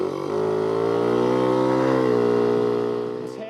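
A Honda Urban Express scooter engine revs near 10,000 rpm as a sustained, buzzing whine with rich harmonics, holding steady and loud close by before easing off at the end, with no speech over it.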